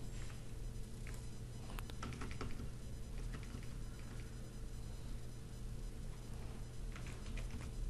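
Keys tapping steadily on a computer keyboard while entering an equation in Mathematica, soft irregular clicks over a constant low hum, with no voice.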